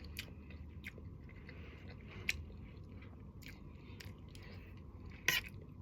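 Someone bites and chews home-cooked bony food at home, with a few soft crunchy bites and one sharper crack near the end over a low steady background hum.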